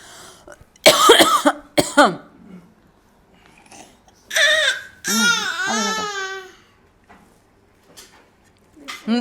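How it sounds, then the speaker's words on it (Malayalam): Someone close by gives several harsh coughs, interspersed with strained throaty sounds and quiet pauses. "എനിക്കെന്തോ ചുമ വരുന്നേ"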